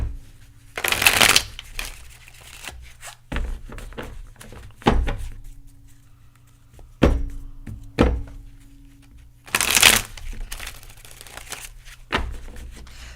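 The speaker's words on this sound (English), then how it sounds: "I'm noticing that last time I shuffled it weird." A deck of tarot cards is shuffled up close in several separate bursts of riffling and tapping, with quiet pauses between them and no talking.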